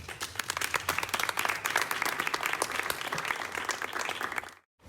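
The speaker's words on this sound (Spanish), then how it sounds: "Un fuerte aplauso, por favor." A live audience at a public-speaking talk breaks into dense, steady applause for several seconds, fairly close and continuous, then cuts off abruptly near the end.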